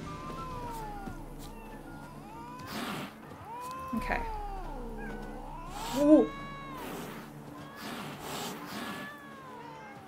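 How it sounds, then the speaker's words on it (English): Several cats meow in The Witcher 3: Wild Hunt, with drawn-out, wavering cries and one sharp louder yowl near the middle over soft game ambience, while a voice briefly speaks. "I found some cats."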